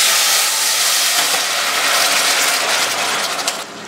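White wine poured over risotto rice in a hot pan for risotto alla Milanese, hissing and steaming as it evaporates: a loud, steady broadband sizzle that eases slightly near the end.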